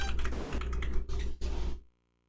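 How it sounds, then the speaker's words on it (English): Rapid clicking of a computer keyboard being typed on close by, in several quick bursts separated by short pauses, then cutting off to silence. "Sorry for the keyboard noises"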